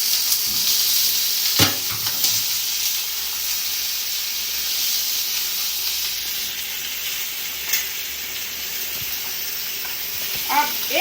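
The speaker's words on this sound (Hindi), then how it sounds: "थोड़ा भून लूंगी।" Onions frying and stirred in a pan for a jackfruit curry, a loud constant sizzle with occasional utensil scrapes and taps, a voice briefly heard near the end.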